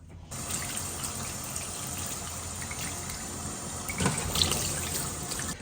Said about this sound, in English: I feel like my turkey is thoroughly rinsed